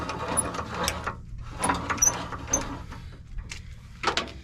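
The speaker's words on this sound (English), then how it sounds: "now we can just wind it up, wind it off" A caravan jockey wheel being wound up by hand after unhitching from the car, a close series of irregular ratcheting, grinding mechanical clicks in short bursts with brief pauses between turns.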